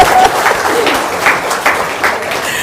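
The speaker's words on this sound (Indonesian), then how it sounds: "Tepuk tangan dong." A small audience gives a short burst of applause, with spaced, uneven claps that rise and fade over a couple of seconds. A little voice noise sits underneath.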